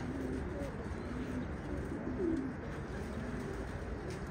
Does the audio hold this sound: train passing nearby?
no